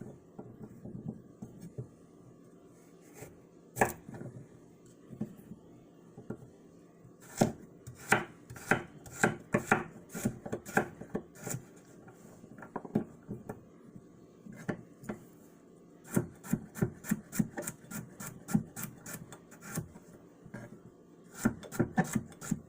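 Carrots being chopped on a board for chicken soup, a knife striking in sharp, rapid bursts of crisp taps with short pauses between runs, close and clear with no talk.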